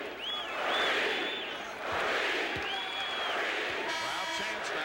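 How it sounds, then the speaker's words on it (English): Basketball arena crowd at the 1989 NBA Finals in Los Angeles roars and chants in a sustained wash, with a commentator's voice over the noise. "Crowd chants now Kareem's name."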